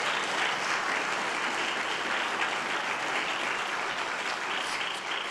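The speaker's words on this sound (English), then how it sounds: "Please give him a round of applause." Sustained applause from a sizable audience at a health equity summit, steady and dense throughout, with no voices standing out.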